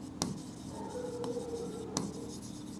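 A teacher writing an answer on a board, with soft scratchy strokes and a few sharp taps as the marker meets the surface, quiet and close in a still room.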